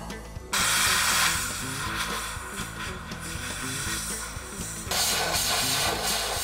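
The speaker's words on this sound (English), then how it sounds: "we're going to torch that out real quick" Cutting torch slicing through the frame of a 1941 Ford truck, a loud roaring hiss starting abruptly, steady with a rumbling flutter beneath, then surging louder near the end, no talking.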